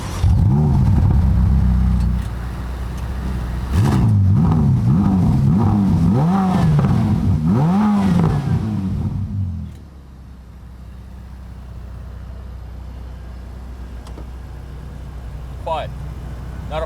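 A Ferrari F8 Tributo's twin-turbo V8 drones steadily up close for about nine seconds beneath someone talking, then drops away to a low, quiet background hum.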